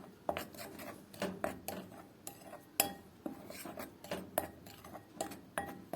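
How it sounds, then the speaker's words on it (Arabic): Dry spices and flour (salt, black pepper, dried coriander, cumin) being stirred together in a bowl, heard as repeated close scraping and clinking strokes of a utensil against the bowl in an irregular rhythm, with no talking. "هقلبهم كلهم مع بعض كده تمام، هيدينا ميكس حلو."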